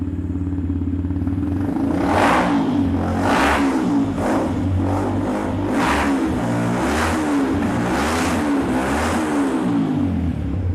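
A custom Yamaha Vixion tracker motorcycle with a fuel-injected engine and an aggressive aftermarket exhaust is revved repeatedly, loud bassy blips swelling over a steady idle rumble, close by and with no talking.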